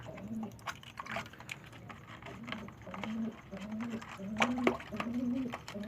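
Several pigeons coo in a repeating low rhythm, close by, with light background sounds and no talk; the birds are domestic breeding pigeons, kept for laying eggs.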